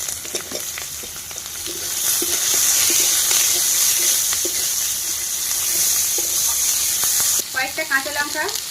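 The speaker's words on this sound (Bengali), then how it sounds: "পেঁয়াজ রসুন বন্ধুরা লাল লাল করে ভাজা হয়ে গেছে," Chopped garlic and onion fry with whole cumin and dried red chillies in a pan, a steady loud sizzle with scattered stirring clicks, and a brief bubbling burst near the end.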